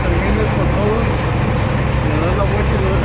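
A truck engine runs steadily and loudly throughout during an in-cab inspection, holding a continuous low rumble as the clutch is slowly released to test the trailer brake, with a voice speaking over it.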